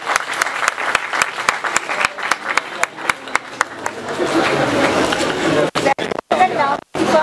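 Audience applause at a Ramadan youth conference, opening with sharp, evenly spaced single claps that build into a full, loud round of clapping from the crowd, ending in a few abrupt gaps.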